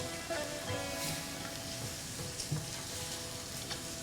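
A fig mixture is stirred slowly in a pan, giving a continuous soft sizzle with occasional spoon scrapes, steady and close throughout.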